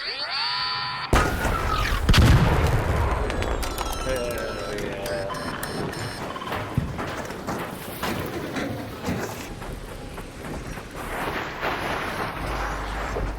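Deadline mine detonating against a large Arc machine in the video game Arc Raiders, a loud booming blast followed by rumbling debris, clanks and gunfire-like noise, under a speaking voice.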